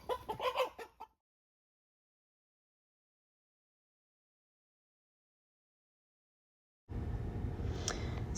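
White backyard chickens cluck briefly at the start, then near-silence follows before a burst of rustling and bird noise returns close by toward the end.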